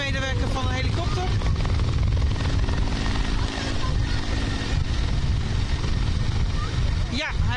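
A rescue helicopter hovers above a stranded fishing cutter off Petten, its rotor roar loud and continuous throughout, with wind noise and faint voices mixed underneath.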